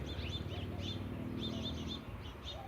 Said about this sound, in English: I hope you can hear the birds.